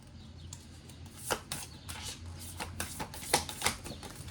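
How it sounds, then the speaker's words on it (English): Rose Oracle cards being shuffled in small separate bunches, quiet irregular papery flicks and riffles close by, with no talking. "think I have to shuffle these separate because they stick together."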